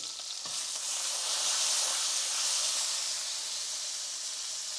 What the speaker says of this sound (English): we're just gonna cook this down for a couple of minutes in the butter